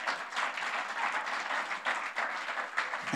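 Church congregation applauding together, a steady broadband wash of clapping held at an even level throughout with no voices standing out.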